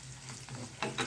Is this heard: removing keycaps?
no